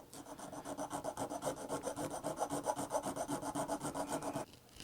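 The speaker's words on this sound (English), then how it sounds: "I'm going to clean that up with a toothbrush." Steady rhythmic scrubbing of a toothbrush on a painted Hot Wheels die-cast toy car, quick back-and-forth strokes close up for several seconds, then stopping abruptly near the end.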